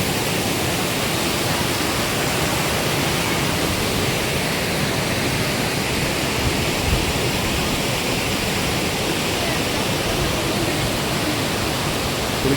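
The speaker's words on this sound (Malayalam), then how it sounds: "ഇതിനാണ് വിരിപ്പാറ വാട്ടർഫാൾസ്, കൈനഗിരി വാട്ടർഫാൾസ്" Virippara waterfall rushes in a dense, continuous roar of falling water, steady and loud with no breaks across the whole stretch.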